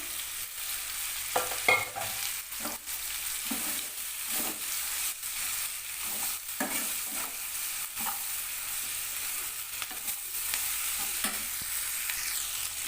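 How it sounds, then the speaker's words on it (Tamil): Chopped broad beans (avarakkai) being stirred and fried in a pan for a poriyal, with a steady background sizzle and repeated scraping strokes of the spoon throughout, fairly close and with no talk. "இப்போ வந்து நல்லா கிளறி விட்டாச்சு"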